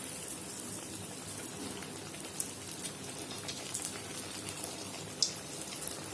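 Flipped Chettinad vellai paniyaram frying in hot oil gives a steady, soft bubbling sizzle with occasional small pops, close and continuous throughout.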